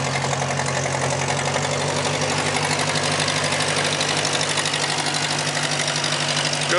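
A 1957 Massey Harris Ferguson Hi F40 tractor with a Continental Z134 engine idles close by, a steady, loud, even-running rumble with a fine knocking pulse and no break.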